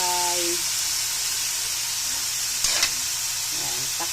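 Taro stems being stirred as they sauté with garlic, onion, tomato and chili for adobo, giving a steady frying sizzle with a brief scrape of the spoon partway through.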